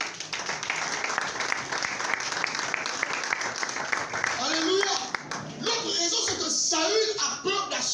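A church congregation applauds in a steady, dense wash of clapping that runs for several seconds, with voices rising over it toward the end in cheering acclamation.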